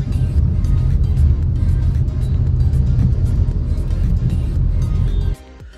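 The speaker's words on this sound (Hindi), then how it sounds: "ये ट्रैफिक देख रहे हो, मुझे नहीं लगता मैं आधे घंटे में घर पे पहुंच पाऊंगा।" Road traffic during a drive home from the gym, a steady loud engine and road rumble that drops off sharply near the end.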